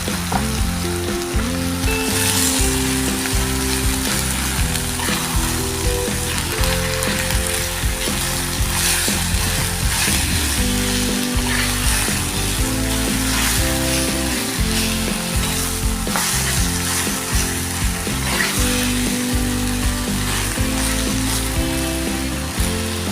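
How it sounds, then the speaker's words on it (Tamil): Quail frying in a pan for a spicy village-style quail fry, a loud steady sizzle running without pause, with faint scraping and clicking of stirring layered over it. "இப்போ காடையை ஆட் பண்ணிக்கலாம்."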